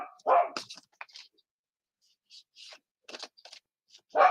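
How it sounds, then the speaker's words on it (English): A dog gives a few sharp, close barks and yips separated by short quiet gaps, with small clicks and whimpers between and a final loud bark at the end. "Maybe it's a ghost dog."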